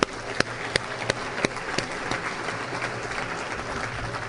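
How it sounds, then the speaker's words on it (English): A convention audience in Costa Mesa, California gives the organizers a round of applause, a dense roomful of clapping with a few sharp individual claps standing out, steady and moderately distant. "So let's give them a round of applause."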